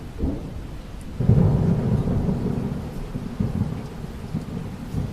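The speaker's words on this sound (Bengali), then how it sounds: "এই ছেড়ে ছেড়ে বৃষ্টি শুরু হলো" A cartoon thunderstorm on a rainy night: a deep roll of thunder builds after a second and rumbles on over continuous falling rain, with no voices.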